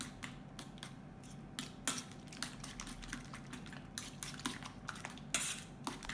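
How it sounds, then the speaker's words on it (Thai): A utensil stirs an egg mixture with ground pepper and light soy sauce in a bowl for a Thai fried mussel omelet, making quiet, rapid clinking and scraping taps in an irregular rhythm, close by with no talking. "ให้เราคนส่วนผสมไข่เจียวหอยทอดของเราให้เข้ากันนะครับ"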